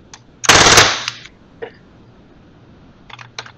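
Paintball marker firing on full auto, a .43 caliber magazine-fed model using shell-style rounds: one dense, loud burst of rapid shots lasting about half a second, followed by a few isolated clicks and faint mechanical rattles.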